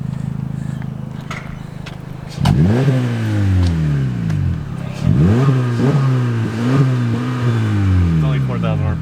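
An Infiniti G35 engine revs to about 4,000 RPM twice in quick succession. Each blip is a loud rising then falling sweep over the steady idle, and people talk nearby.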